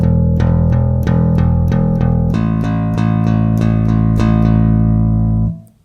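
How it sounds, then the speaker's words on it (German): Metal-style bass guitar picked with a plastic pick, giving a harder, more direct attack: a run of steady, evenly spaced notes with sharp percussive onsets over sustained low tones, loud and alone, ringing out briefly at the end. "Damit ändert sich der Sound, weil letztendlich schlägt man jetzt mit Plastik an und nicht mehr mit einem Finger."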